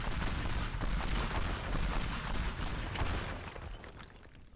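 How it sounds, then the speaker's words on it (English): A pipe bomb goes off in the game Teardown, a dense crackling blast with rumbling, popping debris that gradually fades over several seconds. "Pipe bomb."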